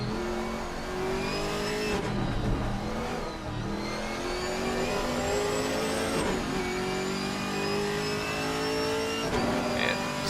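A BMW M4 GT3 race car goes by on track during a 24-hour endurance race, its engine note loud and steady, rising and falling through gear changes with other race engines droning around it and no talk.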